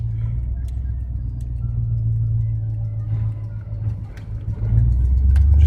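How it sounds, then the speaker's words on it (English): A 1979 Chevy Silverado two-wheel-drive long-box pickup drives along, its engine a steady low droning rumble heard from inside the cab, swelling slightly louder toward the end. "here's your drive in your 79 Silverado"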